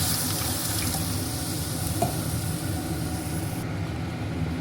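Tamarind water pours steadily into a cooking pan with a continuous splashing, gurgling rush, close by, then tapers off near the end.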